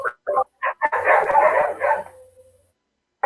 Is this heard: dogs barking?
yes